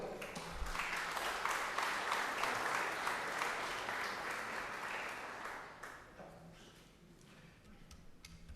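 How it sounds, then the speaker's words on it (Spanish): An audience at a Peruvian electoral lecture session applauds to welcome a speaker, dense steady clapping from a roomful of people that thins and fades after about six seconds. "Recibamos a nuestro ponente con un fuerte aplauso"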